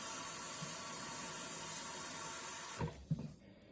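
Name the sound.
pouring water into green chili stew in pressure cooker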